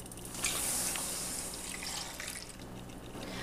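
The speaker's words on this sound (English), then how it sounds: "Then we're going to add a cup of water." A cup of water pours into a cooking pot for a chilaquiles sauce, a steady close splashing rush that runs alone without talk.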